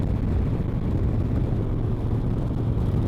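Car engine and road rumble while driving through Tesuque, a steady low drone running unbroken with no voices.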